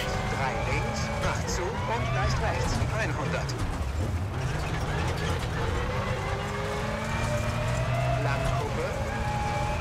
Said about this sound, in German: im Innenraum, finde ich, hört man sehr, sehr schön den Schotter und die Untergründe, die ans Auto knallen